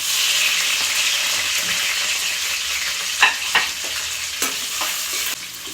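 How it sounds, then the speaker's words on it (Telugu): Onions sizzle steadily in a hot pan with oil while cooking for chicken pulao, a constant bright frying hiss broken by a few sharp clicks and scrapes of stirring near the end, with no talking. "ఆనియన్స్ కొంచెం గోల్డెన్ బ్రౌన్ వచ్చే వరకు వేగనివ్వాలి"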